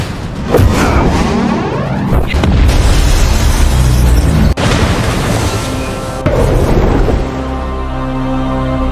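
Cinematic explosion as a missile is destroyed in a superhero action movie, a loud sustained blast with deep rumbling booms and sharp bursts that swell and fade over several seconds.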